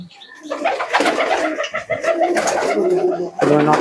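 Several pigeons of the Akash Pukuri Andra breed cooing close by, overlapping low throaty warbles that continue steadily throughout.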